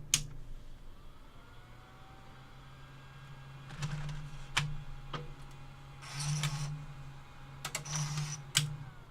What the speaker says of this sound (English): So pop the tape in, and I'm going to switch it off as soon as the tape's gone in.